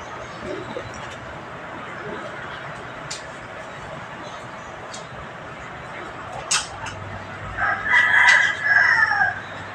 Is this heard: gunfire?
no